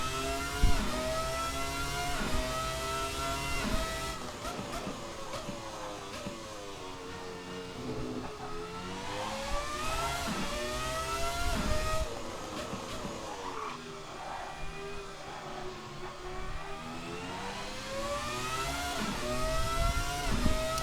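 Ferrari F300 Formula One car from 1998 in Assetto Corsa, its high-pitched engine screaming through rising and falling revs with gearshifts, loud and continuous.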